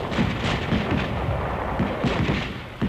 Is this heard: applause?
no